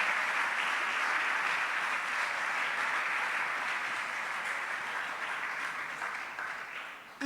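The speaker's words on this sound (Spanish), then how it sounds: "Le da un aplauso fuerte a Dios en esta hora." A church congregation applauds steadily during a worship service, a dense sustained clapping that holds for several seconds before tapering off slightly at the end.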